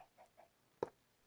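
Chickens in the video game Minecraft give a few soft, short clucks, followed by one sharper, louder cluck-like burst near the end, all faint and alone.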